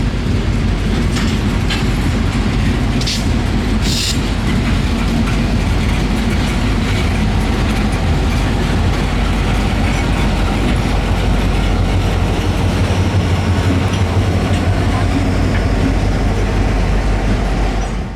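FEC GP38-2 locomotive number 508 hauling a local freight train, a loud continuous heavy rumble with rattling clatter throughout and a deep throb building toward the end.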